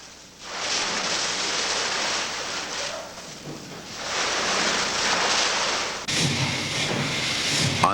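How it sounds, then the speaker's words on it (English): A two-cylinder steam-powered steering engine aboard the SS John W Brown runs in reverse, giving a loud, continuous rushing hiss and chuff that swells and eases in waves, with a sharper burst near the end. "The engine is tested in reverse."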